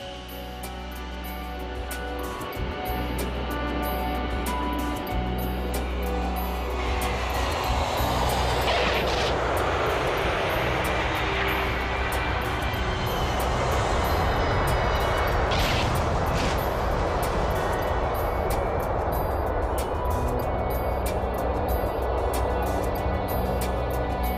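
Pan Am airliner landing on runway 30, a broad roaring rush of jet engines that swells in the middle and holds, with steady tonal hum underneath and no talk.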